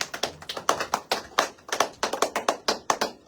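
A congregation at a church worship service claps in praise, with a brisk, steady rhythm of sharp, close hand claps and no voices heard.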